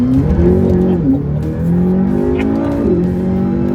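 A 2012 McLaren 12C coupe in manual mode revs hard and loud up through the gears, its pitch climbing, dipping briefly at each shift, then rising again.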